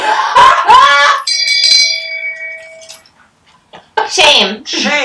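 A bell rings with a bright sustained metallic tone that slowly decays, sandwiched between people talking before and after it.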